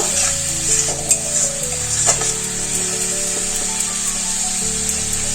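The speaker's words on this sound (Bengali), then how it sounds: "এই মশলার মধ্যে অল্প করে একটু জল দেব। মশলাটা একটু কষিয়ে নেব।" Spice paste with a splash of water sizzles and bubbles steadily in a hot pan for a Bengali vegetarian curry, with a few sharp spoon scrapes and stirring knocks against the metal over the continuous frying hiss.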